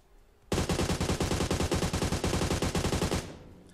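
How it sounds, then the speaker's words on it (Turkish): Rapid automatic gunfire in the mobile battle royale game PUBG Mobile, a loud sustained burst of evenly spaced shots lasting about three seconds, then cutting off. "Hep aynı kişiyi mi vuruyorum?"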